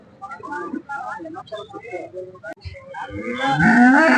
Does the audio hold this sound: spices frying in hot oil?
no